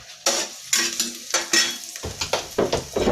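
Garlic sizzles in a hot pan while being stirred, with steady frying hiss and scraping strokes of a utensil against the pan, loud and close with no talk.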